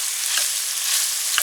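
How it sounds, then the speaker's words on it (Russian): Beef sizzling and frying in a pan while cooking outdoors, a steady close hiss with faint crackles and a light scrape of stirring near the end. "Сейчас мы ее пожарим, и она уже будет мягкая и вкусная."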